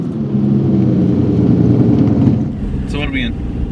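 An Aston Martin DBS Manual engine rumbles loudly and steadily, rising slightly before dropping off, with a person talking briefly at the end.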